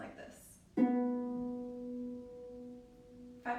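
A harp string is plucked with the pedal in the open position, one clear resonant note that rings and slowly decays for a few seconds before another pluck begins.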